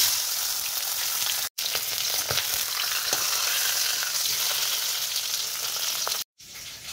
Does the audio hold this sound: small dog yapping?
no